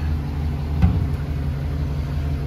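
A 2012 GMC Sierra pickup's engine runs after a fuel pump replacement, giving a steady, low, continuous idle rumble with one brief bump near the start and no talking.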